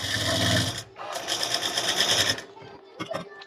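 A sewing machine runs straight stitching along the center of tucks on blouse fabric, a steady close mechanical whir in two runs broken by a short pause, then stopping into light handling clicks.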